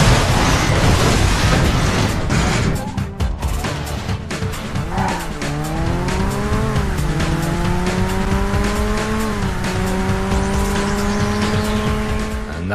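A race car roars through a lap of a Burnout course on PS2, opening with loud skidding and tire squeal, then the engine climbs steadily through the gears in a sustained, close, continuous howl.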